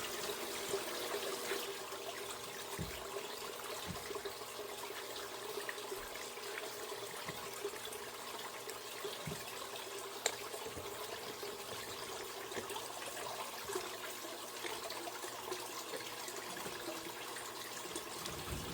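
Water trickling and running through a gold sluice box, a faint, continuous flow with a low hum underneath and scattered soft clicks and knocks throughout.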